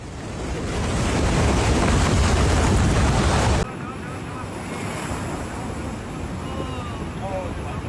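Roaring typhoon surf on the Taiwan coast with heavy wind noise buffeting the microphone, a continuous loud wash of crashing waves that eases slightly partway through.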